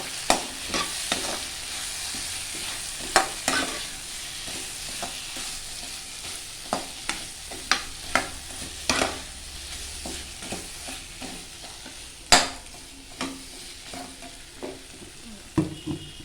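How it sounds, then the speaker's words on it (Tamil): Tomato, onion and mixed vegetables sautéing in a pan for kara kuzhambu, a soft continuous sizzle broken by repeated scraping strokes of a spoon stirring the pan, moderately quiet and close. "தக்காளி வெங்காயம் போட்டு அதையும் நல்லா வதக்கிட்டு காயெல்லாம் என்னென்ன போடுறீங்களோ அதுவும் நல்லா வதக்குங்க"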